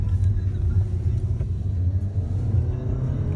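A 2017 VW Jetta turbo engine pulls hard in first gear, a loud, close, steady low rumble from inside the car with no words spoken.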